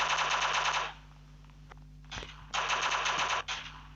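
Rapid bursts of automatic gunfire from the video game Block Strike, loud and close, in two long volleys with a short pause and single shots between, no talking.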